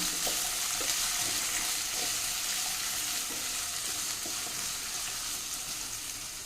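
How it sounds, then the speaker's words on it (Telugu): Vegetables are stirred in a pan while frying for a tomato paneer pulao, with a steady soft sizzle and intermittent scraping stirs close by and no talking. "నేను నా దగ్గర ఉన్న వెజిటేబుల్స్ అన్నీ యాడ్ చేస్తున్నాను మిక్స్ చేద్దాం"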